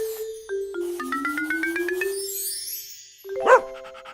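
A short electronic chiming melody plays, then a single cartoonish dog bark rings out near the end.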